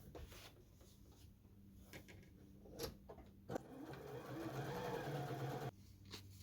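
A Janome JW8100 sewing machine runs a long gathering-type stitch, a steady close whir that builds through the middle with a few brief clicks and knocks around it.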